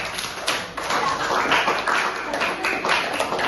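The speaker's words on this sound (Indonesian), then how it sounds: "Tepuk tangan buat kelas 8 boleh" A Grade 8 class claps hands at the end of a lesson, a close, fairly loud patter of individual claps running continuously for a few seconds without talk.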